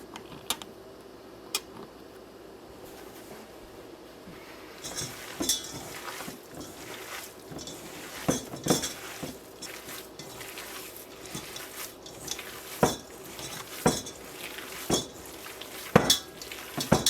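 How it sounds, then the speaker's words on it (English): Ground wild turkey sausage meat mixed by hand in a bowl for breakfast sausage, giving soft squelching and scattered clinks and knocks that grow busier after a quiet start, with no talking. "But for now I'm just going to mix it by hand."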